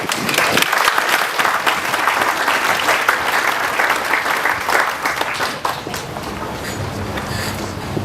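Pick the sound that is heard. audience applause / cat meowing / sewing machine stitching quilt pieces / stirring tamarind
audience applause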